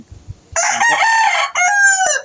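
A stag rooster crows loudly and close, a long drawn-out call followed by a second shorter crow, with faint clucking just before.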